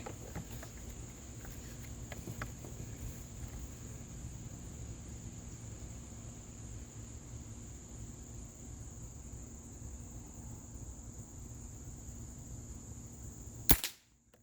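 A Daisy Powerline 822 air rifle fires a single sharp crack near the end while being sighted in at 15 yards outdoors, over a long stretch of steady, faint insect chirping.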